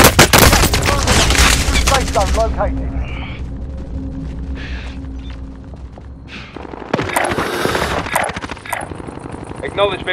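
Rapid bursts of automatic gunfire crackle through a Call of Duty Modern Warfare Warzone match, loud and near at first, then sporadic shots and more fire later, with players talking over it.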